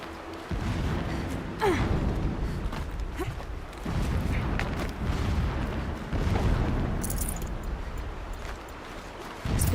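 Distant explosions rumble in the video game Horizon Zero Dawn, heavy booms and dull thuds rolling in repeatedly over a constant low background, with no talking.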